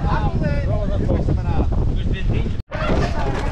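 Cold wind buffets the microphone at a downhill mountain-bike race in Boticas, Portugal, a steady loud rumble broken by a brief dropout near the end, with speech-like tones mixed in.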